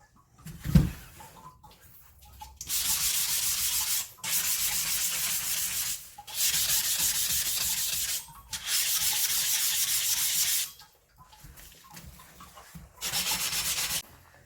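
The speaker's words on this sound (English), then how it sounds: "Between each grit, I also need to sand the edges here, which is my beveled edge." Repeated hand-sanding strokes with diamond hand pads on a cast glass beveled edge, bursts of gritty, hissy scraping lasting a couple of seconds each with short pauses between, close and fairly loud.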